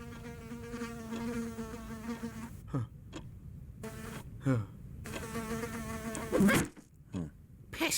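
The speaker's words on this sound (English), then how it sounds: "Pesky bee." A bee buzzes close by in fits and bursts, its droning whine rising and cutting out several times with short silent gaps between passes.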